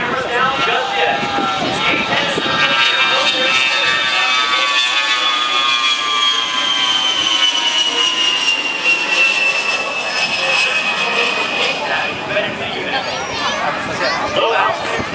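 An A-10 Thunderbolt jet roars steadily past at low altitude during an air show in Toronto, a loud continuous engine whine with a slowly falling pitch, over a crowd murmuring in the background.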